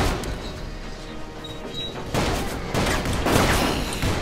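Rapid overlapping gunfire from a Wild West shootout in the Call of Juarez video game, dense crackling bursts that swell loudest in the second half with no talking.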